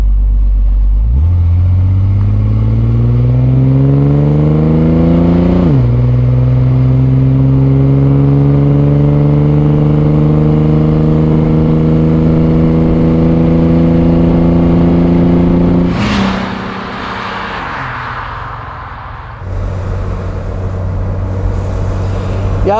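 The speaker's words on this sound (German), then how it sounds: "Wenn man da drauf tritt, der klingt richtig kernig, der Sechszylinder." A 1964 Mercedes 230 SL Pagode's six-cylinder engine revs up strongly, pitch climbing in two long pulls, then drops back to a steady idle; loud and close, no talk.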